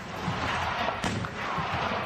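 Ukrainian army artillery guns firing shells: a dense, continuous rumble of blasts, with one sharp, loud report standing out midway.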